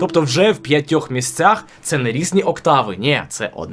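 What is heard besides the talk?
None of the usual background noises is heard.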